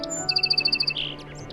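A bird, meant as the golden bird of a village tale, sings a quick bright run of about eight evenly spaced chirping notes, clear and close, followed by a few scattered higher tweets.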